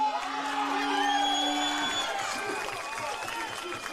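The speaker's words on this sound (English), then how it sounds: "I can see a lot of claps for Benji here" Boxing crowd at an Ashton Promotions show in Derby, cheering and clapping for fighter Benji Smith, a dense steady wash of applause and whoops with a sustained tone at the start.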